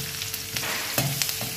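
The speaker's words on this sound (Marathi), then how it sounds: "हिरवी मिरची तळून झाल्यावर इथे मी जिरे आणि मोहरी टाकली आहे" Cumin and mustard seeds sizzle and crackle in hot oil right after green chillies have been fried, a tempering for thin poha chivda. The frying is a steady close hiss with a few sharper pops and spatters, and no voices.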